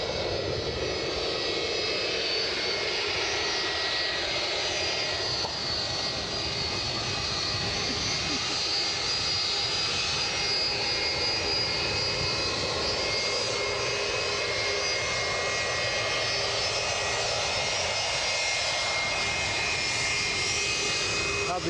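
United airliner departing Edinburgh, a sustained jet engine roar with a long even rumble, joined at times by a higher whine, while people talk over it.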